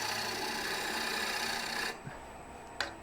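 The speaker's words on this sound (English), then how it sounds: "I'm going to go back and scrape that with the tip." A woodturning tool tip scrapes a wooden bowl on the lathe for an unsupported finishing cut, giving a steady, close rasping scrape that stops abruptly after two seconds, followed by a couple of faint knocks.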